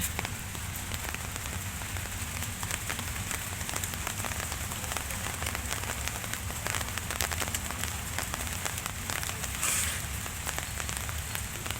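Heavy rain pours steadily in a windy monsoon downpour, a dense, even hiss of drops drumming on surfaces up close for the whole stretch with no voices.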